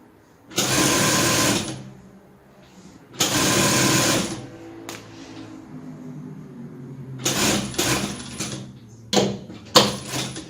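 A sewing machine stitches lace onto a vest in loud, steady runs of a second or so, separated by pauses, then gives several shorter bursts near the end.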